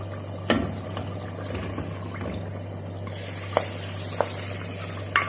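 Chole tempering (baghar) in oil, a steady close sizzle with a few sharp clinks and pops scattered through it.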